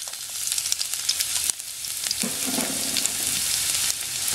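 Garlic frying in hot olive oil, a steady crackling sizzle throughout with a brief dip mid-way and a brighter burst of spitting as the pan is stirred; close and fairly loud, no voices.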